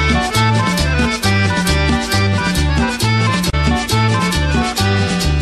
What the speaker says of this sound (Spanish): Otra vez el acordeón.